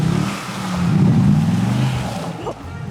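A Mercedes G63 Brabus struggles on rough off-road 4x4 terrain, its engine droning and rising as the tyres spin and lose grip, loud and close, with a voice briefly speaking.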